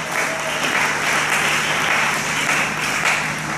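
A church congregation applauding loudly and steadily, a dense wash of clapping from many hands that holds without a break for a few seconds.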